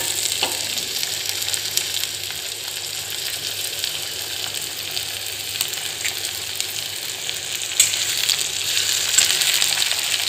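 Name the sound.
chopped tomatoes sautéing with onions in pan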